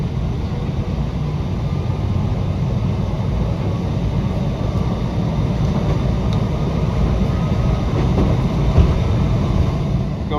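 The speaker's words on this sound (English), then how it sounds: "So I'm on a Glenmont train now out of Brooklyn." Steady, loud rumble and hiss of a DC Metro train under automatic operation, a Glenmont-bound run out of Brooklyn at speed, continuous and unbroken with no voices.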